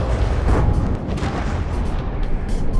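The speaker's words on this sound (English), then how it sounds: "There we go, another explosion!" A loud, booming explosion from naval combat in From the Depths, a heavy rumbling blast sustained for a few seconds with crackling debris above.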